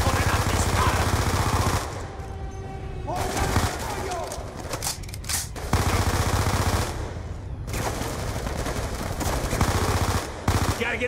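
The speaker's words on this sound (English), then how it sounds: "Gunshots came from inside." Rapid bursts of automatic gunfire crackle loudly over a dense combat din in a video game's story mode, with brief lulls between volleys and voices shouting in the chaos.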